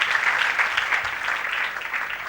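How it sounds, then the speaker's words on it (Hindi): Audience applause at a religious discourse gathering, a short burst of dense, continuous hand clapping from a crowd that holds steady and moderately loud. "मेरी संगत के लिए तालियां बजाओ।"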